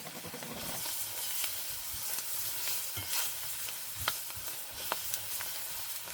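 Chopped onions sizzle quietly in a frying pan, a soft, steady crackle and hiss broken by a few sharp clicks of stirring, faint and close.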